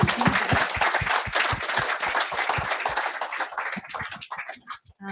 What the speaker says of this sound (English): Please join me in one more round of applause for a very comprehensive talk.